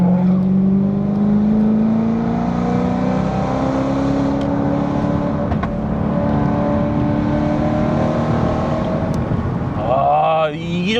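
A BMW E92 M3 runs with a loud, continuous exhaust drone that slowly climbs in pitch. Sharper revs swell up close near the end, with faint voices underneath.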